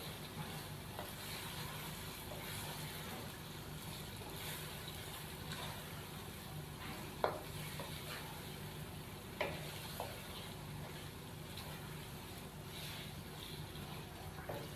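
Chicken pieces and turnip sizzle steadily in a pan with red chilli and spices, a continuous low frying hiss with a few soft clicks of stirring, no voices.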